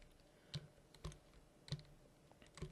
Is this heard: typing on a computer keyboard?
yes